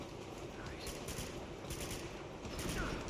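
Enemy gunfire in Uncharted 2, faint bursts of rapid automatic shots repeating in the distance beneath a steady wash of game ambience.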